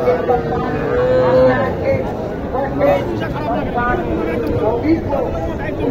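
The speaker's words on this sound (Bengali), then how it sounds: "অনেকগুলো গরু আছে।" Cattle moo loudly and repeatedly at close range, long drawn-out calls rising over a crowded Mataji cattle market background with people talking.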